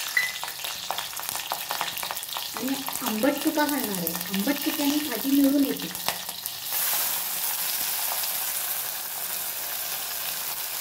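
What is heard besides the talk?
green chillies frying in oil in a pot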